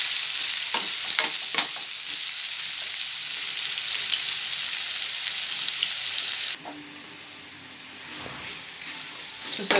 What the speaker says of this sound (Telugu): జింజర్ మంచిగా ఫ్రై అయిపోయింది